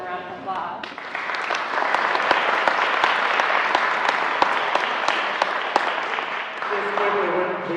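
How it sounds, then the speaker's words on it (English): An audience applauds the fire chief at a meeting, dense clapping swelling quickly and holding steady, with speech audible at the start and end. "Let's give him a round of applause."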